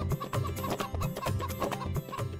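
Chickens cluck in a busy rural household yard, their short bursts repeating steadily and fairly close amid other clatter.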